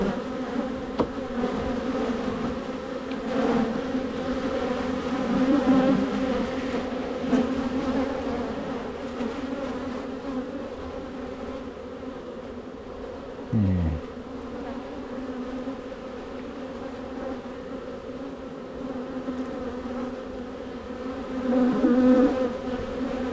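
Bees buzz steadily throughout a hive inspection at ranch bee huts, a dense, close, continuous drone that swells slightly at times with no talking.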